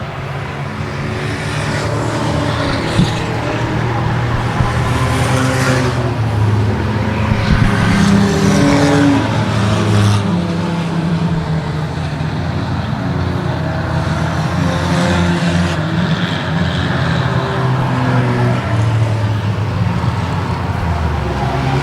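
Race cars lap an enduro track in a long, steady roar of engines, several cars sweeping past close by in overlapping waves with no break in the noise.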